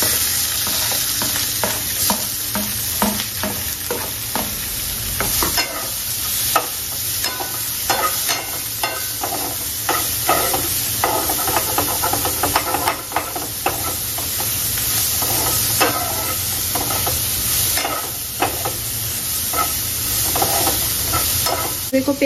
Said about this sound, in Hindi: लहसुन छिट्टे देख रहे हो कैसी पड़ रही है। हरी मिर्च भी डाल दी फटाफट से